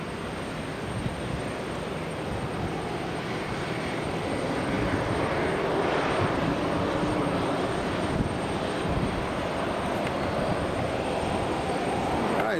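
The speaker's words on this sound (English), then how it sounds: "we're going to focus more on this Airbus that's coming in" An Airbus airliner lands at Raleigh-Durham International Airport, its engines giving a loud, steady roar that swells slightly as the aircraft passes, heard alone without talk.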